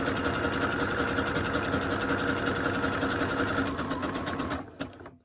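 A sewing machine zigzag stitching an appliqué on a Christmas candles table runner: a close, steady mechanical whir and rapid needle chatter that runs evenly, then winds down and stops near the end.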